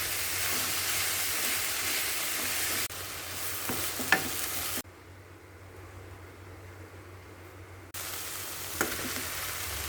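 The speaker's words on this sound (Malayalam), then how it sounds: "ഇടയ്ക്കിടെ അടപ്പ് തുറന്ന് ഇളക്കി വീണ്ടും അടച്ചു വെച്ച് നമുക്ക് വേവിച്ചെടുക്കാം." Banana flower thoran sizzles steadily in a pan, close and continuous. The hiss drops and rises as a lid is closed and lifted, with occasional clinks of a spoon stirring through the frying vegetable.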